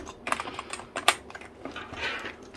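A cheap My Computer Specialist KB-G100+ wired UK keyboard clicks under steady typing, irregular light taps with one sharper keystroke, close and clear with no talk.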